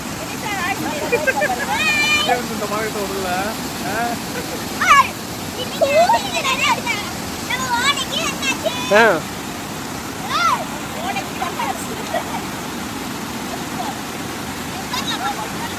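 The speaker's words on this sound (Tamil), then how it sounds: "மாணிக்கம்பட்டியில இருக்கு ஓடை" Flowing water of a stream at Manikkampatti near Tiruvarur, a steady broadband rush running throughout under frequent nearby voices and chatter, with occasional splashes.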